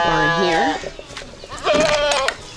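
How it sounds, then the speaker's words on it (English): A sheep bleats twice in a goat barn on a small farm, each call loud, close and wavering in pitch, separated by a short pause with faint background noise. "Let's go let the sheep out. Because the sheep sleeps in this goat barn here"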